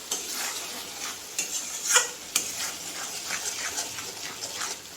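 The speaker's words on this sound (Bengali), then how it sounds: "মশলাটা গ্যাসটা কমিয়ে ভালো করে কষিয়ে নিচ্ছি" Spice paste with yogurt, cashews and raisins sautéed on low gas for a potato and pointed gourd korma, giving a steady soft sizzle with repeated spoon scrapes and light clinks against the pan, close and fairly quiet.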